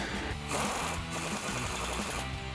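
A ratchet or impact tool drives a 24mm socket, tightening a nut on a Tacoma's front lower control arm. It makes a steady, dense mechanical rattling that runs continuously and fairly close, with no talk over it.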